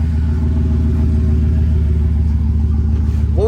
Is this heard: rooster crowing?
no